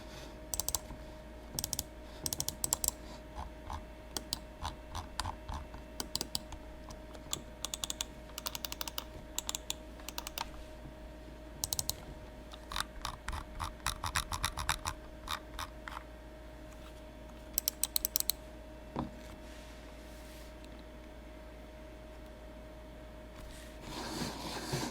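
Computer mice dragged across a tabletop produce quiet scraping and clicking bursts in irregular clusters, separated by near-silent gaps over a low steady hum.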